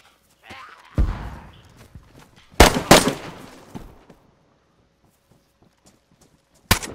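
A grenade detonates in the video game DayZ, a loud sharp blast with a crackling burst and a brief tail, preceded by softer thuds and movement noise and followed by a second short loud hit near the end.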